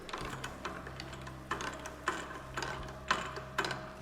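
A special chuck on a woodturning lathe is fitted to grip a salad bowl by its rim, giving a soft, close run of ratcheting metallic clicks in a loose, repeating rhythm.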